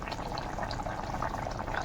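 Fish curry bubbling in a pot with fish heads in it, a steady close seething and bubbling hiss with no pauses and no voices.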